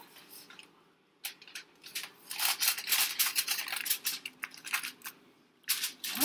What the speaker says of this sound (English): Next, you want to cover it with some aluminum foil.